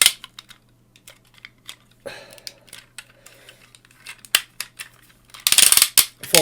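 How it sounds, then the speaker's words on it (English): Small sharp plastic clicks and snaps come from a Tobot V Lightning transforming robot toy as its legs and panels are folded, a scattered series of close taps ending in a louder cluster of rattling clicks. "you open this panel, and then you fold the leg out again."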